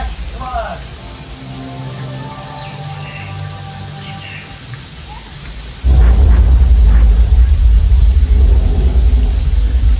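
A simulated flash-flood rainstorm on the Universal Studios backlot tour starts with a loud sudden roar of pouring rain and rushing water, after quieter ambience with voices and musical tones beforehand.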